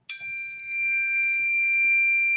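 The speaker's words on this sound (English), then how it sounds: "Here are two tuning forks" Two tuning forks tuned a Pythagorean fifth apart are struck together, giving a bright metallic onset that settles into steady, pure sustained tones ringing evenly and close.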